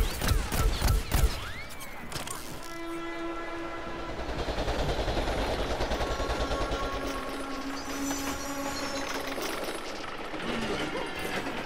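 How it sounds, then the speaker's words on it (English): Rapid gunfire from a shooter in Plants vs. Zombies: Garden Warfare, a dense run of fast repeated shots with tonal whines and game effects layered over a steady loud bed, continuous for most of the stretch. "I keep launching my bullets too fast."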